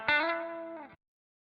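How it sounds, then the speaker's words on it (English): A single sustained guitar chord rings out with a wet, spacious reverb and then cuts off abruptly, leaving silence. "Put that in some reverb."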